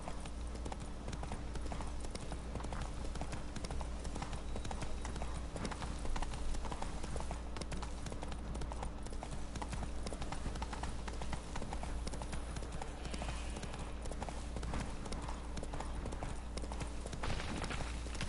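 Roach the horse galloping through The Witcher III, a fast, steady drumming of hooves kept up the whole time over a dense, constant rumble of movement and outdoor ambience, close and loud, with no voices.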